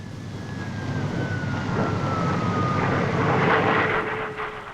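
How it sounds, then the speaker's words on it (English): Hawker single-seater jet fighter climbing almost vertically at an air show, a loud sustained jet roar with a descending whine that swells and rises in pitch toward the end, no voices over it. "The new Hawker single-seater fighter is next on parade with an amazing demonstration of its almost vertical"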